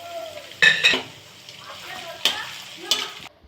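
Semolina pulao ingredients stirred and fried in a pan, with a few sharp scraping clinks of a utensil against the metal over a low sizzle, close and alone.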